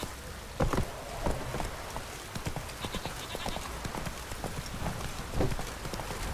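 Roach, the horse in The Witcher 3, gallops with a quick run of hoof clip-clops over a soft rain-like hiss, fairly close and steady. No one speaks.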